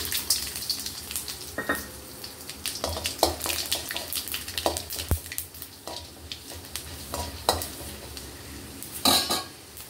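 Mustard seeds and other tempering spices crackle in about three spoons of hot oil for a ladyfinger fry, with soft sizzling under scattered clinks and scrapes of a spoon against the pan.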